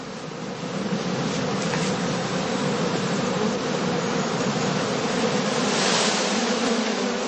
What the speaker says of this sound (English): Bees removed, that the beekeeper does not want for his overwintering skeps, are collected in an empty skep reserved for sale.